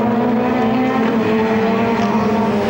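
WTCC touring cars race hard around the Puebla circuit, their engines roaring loud and close in a steady, continuous drone with shifting harmonic whine as the field slips and slides.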